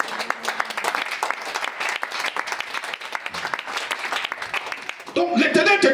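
A church congregation claps and cheers in dense, sustained applause that fills the room, with voices mixed in and music rising toward the end.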